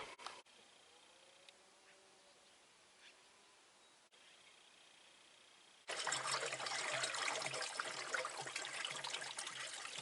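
Liquid trickles and drips quietly at first, then a louder, steady pour of coolant splashes into a scrapyard Mercedes radiator with a heavy coolant leak for the last few seconds.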